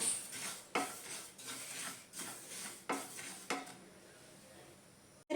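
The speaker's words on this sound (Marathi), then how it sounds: "सतत हलवत एक दोन ते तीन मिनटं आपण तीळ हे छान असे खरपूस भाजून घेतलेले आहेत" Sesame seeds being roasted on low flame in a pan, with repeated scraping stirs and soft sizzling at an uneven rhythm, ending in a sharp clunk.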